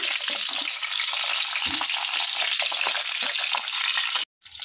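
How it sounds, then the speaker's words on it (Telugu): Stuffed capsicum frying in a pan, giving a steady close sizzle with small crackles throughout and a brief dropout near the end. "ఇలా రెండు వైపులా బాగా వేయించుకోవాలండి"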